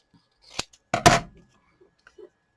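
Scissors snip through paper for a journal page, a few short close cuts in quick succession and then a couple of faint soft rustles in an otherwise quiet room.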